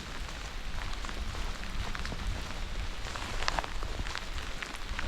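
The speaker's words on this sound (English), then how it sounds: "it is raining. It is coming down really good at the moment." Heavy rain pours steadily onto a surface, a dense continuous patter with occasional sharper drops hitting close by.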